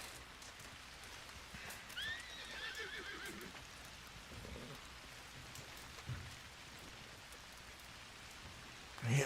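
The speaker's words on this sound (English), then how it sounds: "that horse sounds like it's getting closer" A horse whinnies and clops in a rainy, dark night scene of a Red Dead roleplay video game. Steady rain patters throughout, with quiet neighs and hoof sounds, and a sharper thump near the end.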